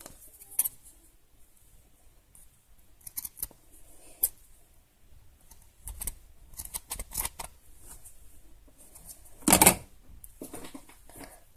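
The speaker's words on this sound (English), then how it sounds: "Alright, so I have cut out a strip, which I'm here going to cut into two." Scissors snip a craft strip in two while making tack for a Schleich toy horse, a few sparse, quiet clicks and cuts close by with pauses between, ending in one sharper, louder snip near the end.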